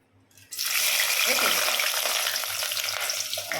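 Onions and whole spices sizzle loudly in hot oil for a mutton curry, a dense steady frying hiss that bursts in after a brief quiet start and carries on close up, with faint stirring and clinks underneath.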